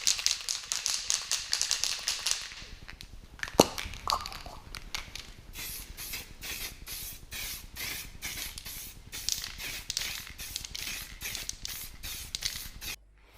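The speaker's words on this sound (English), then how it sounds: "painting the timing cover and the head with some really great quality Poundland matte black spray paint" Matte black aerosol spray paint hisses in repeated short bursts over a Volkswagen Fox engine's timing cover and cylinder head, with a brief rattle between sprays, close and steady.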